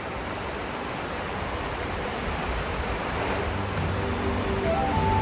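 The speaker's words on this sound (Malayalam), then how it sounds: "ജസ്റ്റ് ഈ വെള്ളത്തിൻ്റെ സൗണ്ട് കേട്ട് ഇങ്ങനെ നിൽക്കുക" Flowing water in a forest among sequoias, a steady broadband rush that swells slightly in loudness, heard alone with no talking.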